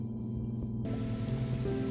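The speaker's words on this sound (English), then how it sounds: "the rain hitting the lava and causing it to kind of smoke and sizzle" Rain falls on lava in Minecraft, a steady hissing sizzle with soft patter, continuous and close, with no voices.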